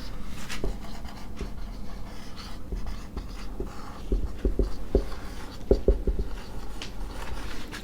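Chalk or a marker taps and scrapes across a board in short irregular strokes as a physics equation for a solenoid's magnetic field is written out. The marks are close and moderately loud, with no talking.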